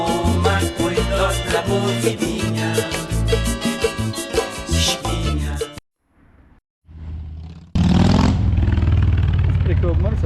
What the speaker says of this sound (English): Pretty cool motorcycle.